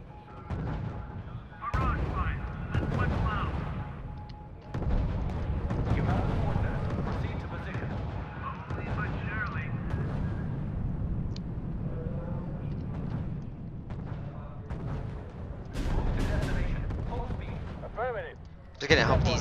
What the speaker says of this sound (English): General, Allied Command has ordered the bombing of the city.